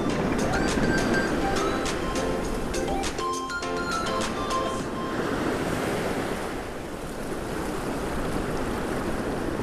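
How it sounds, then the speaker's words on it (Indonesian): Calm sea waves wash steadily along the shore at Tanjung Keluang beach in Central Kalimantan, a broad continuous surf hiss with wind noise, joined early by a brief bright tonal chirping before settling into even wash. "Di lokasi ini pula kita dapat merasakan suasana pinggir pantai dengan gelombang air laut yang tenang."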